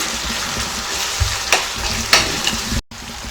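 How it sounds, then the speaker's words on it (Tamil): Steady close sizzling of tomatoes and ginger-garlic paste sautéing in a pan, with a few scraping stirs of a spatula and a brief cut near the end. "இந்த தக்காளி வதங்குற கூடவே இஞ்சி பூண்டு பேஸ்ட்டு சேர்த்துக்கலாம் நல்லா பச்சை வாடை போகிற அளவுக்கு வதக்கிடலாம்"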